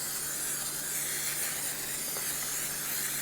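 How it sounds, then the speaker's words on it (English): Cooking spray hisses steadily from a can into a 9 by 13 casserole dish, one continuous faint spray held for a few seconds. "we're going to spray our casserole"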